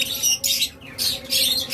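Pet lovebirds, cockatiels and budgerigars squawk loudly nearby in repeated harsh bursts, several overlapping calls with brief gaps between, no talking.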